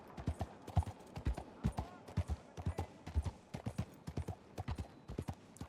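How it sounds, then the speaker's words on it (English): Horse hooves clip-clopping in the WildRP western game, a rapid uneven run of close, sharp hoof strikes, with a faint whinny-like sound mixed in. "Whose horse is that?"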